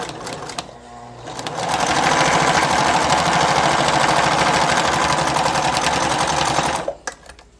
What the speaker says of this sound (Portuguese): Então aqui você vai fazer uma costura reta normal.